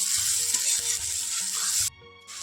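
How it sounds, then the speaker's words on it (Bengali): Onions and spices fry in a pan while being stirred, giving a continuous close sizzle with light knocking underneath that drops off sharply near the end, during preparation of a rohu fish curry with potato and cauliflower. "ভালো করে নাড়াচাড়া করে ভেজে নেব"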